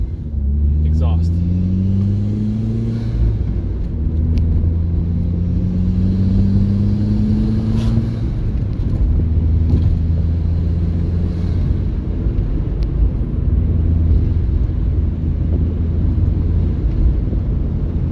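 Engine and exhaust of a Ford Focus ST driven on a canyon road, a loud steady rumble with rising and falling revs through gear changes, heard from inside the car.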